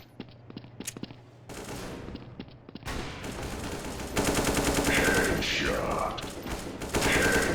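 Automatic weapon fire in Counter-Strike: Source, a few sharp isolated shots at first and then sustained loud rattling bursts that grow denser and louder toward the end.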